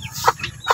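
Caged Brahma chickens give a few short, close clucks in quick succession, brief sharp bursts over a low background murmur.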